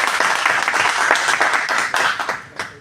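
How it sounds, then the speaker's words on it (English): An audience at a personality development and life skills training session breaks into a big round of applause: dense, loud clapping that carries on steadily and then thins out near the end. "A big round of applause."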